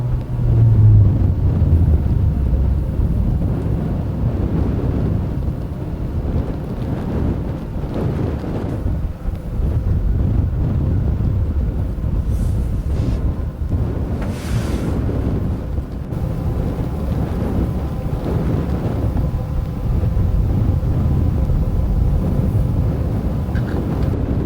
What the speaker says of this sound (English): Comes in gusts basically